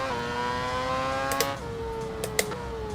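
A simulated F1 car engine in a racing game, a high, tonal whine that steps down in pitch at each quick gear shift, with a few sharp clicks, fairly quiet and steady.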